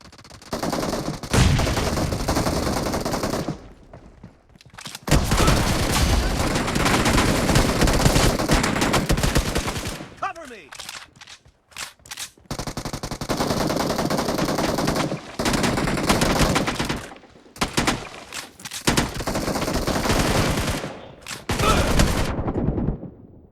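Automatic and single-shot gunfire in the mobile battle royale game PUBG Mobile, loud dense bursts of fire with brief gaps, the bursts broken by short quiet pauses and quick staccato shots.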